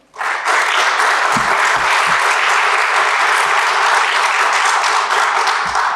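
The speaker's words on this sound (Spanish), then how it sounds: "Bienvenida, entonces, un aplauso para ella al pedagógico" Warm applause from a seminar audience welcoming a speaker at a teacher-training college, bursting in suddenly and holding as dense, even, loud clapping for several seconds.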